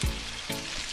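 Seasoning sautés in a hot pan with mackerel for a Jamaican-style dish, giving a close, steady sizzle and crackle with a brief stir or shift partway through, no voices.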